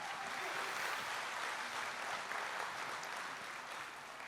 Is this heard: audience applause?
yes